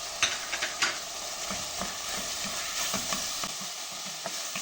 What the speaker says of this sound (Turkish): Tekrar kavurmaya devam ediyorum. Salça kokusu çıksın biraz.